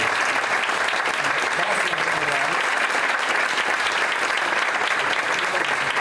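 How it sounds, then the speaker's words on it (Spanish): Strong, steady applause from an audience at a talk and colloquium in Spain fills the room, a dense, even roar of clapping held at full strength throughout. "os damos este fuerte aplauso por venir desde Sevilla y desde Asturias."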